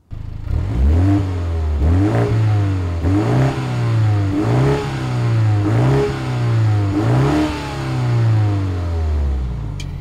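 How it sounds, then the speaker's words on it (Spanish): The exhaust of a 2022 BMW 235i Gran Coupe, fitted with an exhaust valve, revs repeatedly, about six rising throttle blips in a steady rhythm, each swelling and falling back, loud and close. "porque realmente el escape está ahí, con su válvula de escape. Escuchad cómo suena."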